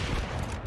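Gunfire in a Counter-Strike pro match between Furia and Falcons, with a rapid burst of shots blending into a dense, loud, continuous rattle across the moment.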